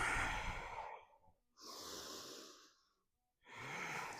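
Slow, audible breaths during an intense vinyasa yoga session: a long, airy exhale, then a smooth breath, a pause of near silence, and another breath starting. The breathing is close and soft, with no talk.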